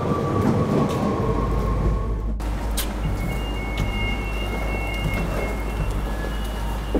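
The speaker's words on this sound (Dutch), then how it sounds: "Oké, het gaat nu een trein in." A Dutch passenger train rolls through with a steady low rumble, a sharp clunk partway through, then faint high squeals and rattles as it continues at close range.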